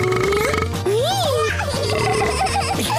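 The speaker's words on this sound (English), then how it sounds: "It's not a burping competition!" A child's drawn-out burp rises and falls in pitch over continuous background chatter and voices, close and fairly loud.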